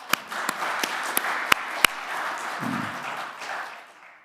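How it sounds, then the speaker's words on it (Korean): A church congregation claps together, starting with a few sharp, spaced claps that quickly swell into moderate, sustained applause under a soft murmur of voices. "수고한 여러분 모두가 함께 서로를 격려하면서 함께 박수하죠"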